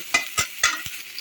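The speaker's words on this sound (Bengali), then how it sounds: "ইলিশ মাছ ভাজার যে তেলটা ছিল ওই তেলেই পেঁয়াজ দিয়ে দিয়েছি" Onions frying in leftover hilsa fish oil in a pan, stirred in four sharp scrapes spaced about a quarter second apart over a faint, steady sizzle, close up with no voices.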